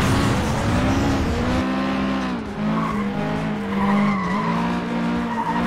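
Car skidding in the racing game FlatOut 2, a loud sustained tire squeal with wavering pitch over a rough engine roar, close and continuous throughout with no voices.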